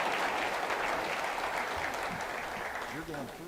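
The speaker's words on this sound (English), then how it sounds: "A round of applause for our ambassadors of the city today and county." Warm audience applause at a 2023 Riverway summit event, sustained clapping that fades slightly toward the end, with a voice speaking over it near the close.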